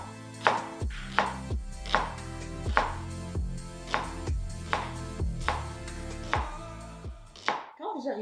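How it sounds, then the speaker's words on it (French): A parsnip being cut into even slices with a knife on a cutting board, about ten crisp thuds at a steady, unhurried pace, close up and alone, ending with a brief shuffle. "je vais débiter mon légume en tranches égales en épaisseur."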